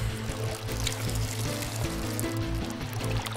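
A water attack weapon in Worms Revolution pours a steady stream of water, a continuous gushing splash over a droning tonal game music bed, with no voices in the clip.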